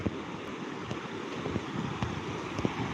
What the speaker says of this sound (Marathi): हे बघा कसं पाणी वाजा लागलं आता